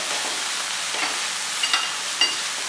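Green capsicum sautéing in a pan, a steady hiss of sizzling with a few faint scrapes and clinks of stirring.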